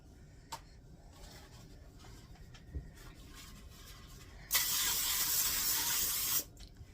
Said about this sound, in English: let me spray this other one down